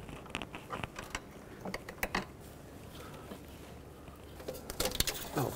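Small clicks, creaks and scraping come from a screwdriver gently prying a hose off near the intake of a 1997-2003 Ford F-150 5.4L two-valve engine, in close, irregular bursts without talk.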